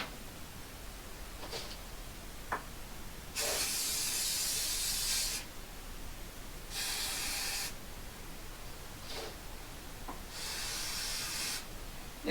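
Primer for wood, metal and plastic hisses from a spray can in three steady bursts of about two seconds each, separated by quiet pauses with a few faint clicks.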